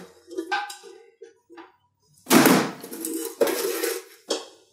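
Flour being stirred into chocolate brownie batter with cinnamon, with a utensil clattering and scraping against the mixing bowl in several loud bursts between quieter taps, close by.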